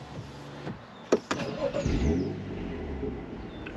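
A BMW M235i engine cranks and catches with a sharp bark, then settles into a rising, revving idle close by, with no voices over it.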